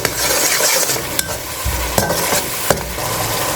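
Ground spices (red chili powder, coriander powder, crushed red chili) are stirred into sizzling oil in a cooking pot, a few quick scraping strokes of a spoon over a steady close fry hiss, no talking.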